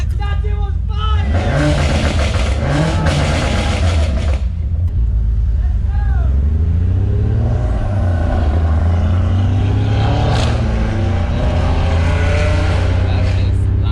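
A loud 900HP Supra engine on a night drive, deep rumbling with rising and falling revs and sharp bursts of acceleration, heard from inside the car while people talk and shout over it.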